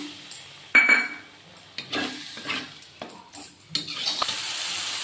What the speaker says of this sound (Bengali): তো এটা ভালো করে কষিয়ে কষিয়ে রান্না করতে হবে।